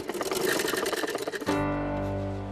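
Sewing machine running in rapid rhythmic stitching bursts, close and clear, then cutting off into a lingering low hum.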